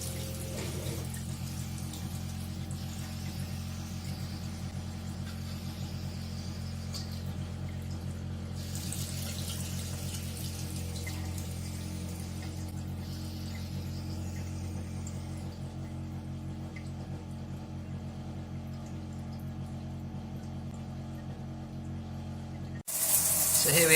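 Cold water runs steadily from a tap on a narrowboat fed by a new Jabsco water pump, a constant close rush with a low pump hum underneath, lasting throughout before a brief louder burst at the end.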